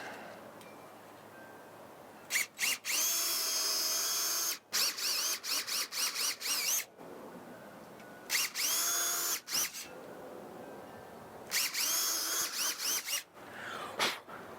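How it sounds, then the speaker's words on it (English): A power drill whirs in repeated bursts, starting and stopping as it bores holes while installing security cameras, with brief pauses between runs. "So I will drill the other ones out to this size."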